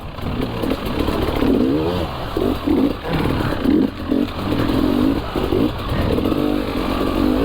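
A KTM enduro motorcycle climbs the Lagares riverbed, its engine revving hard in repeated bursts and loud throughout as it labours up the rocky wall section, with some clatter of stones.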